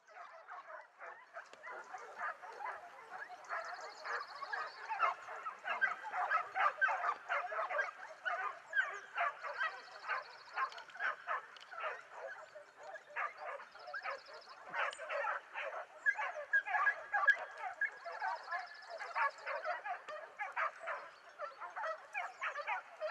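A pack of hunting dogs barking and yelping continuously at some distance during a Spanish montería hunt, excited overlapping voices with occasional higher yips and whines, steady throughout.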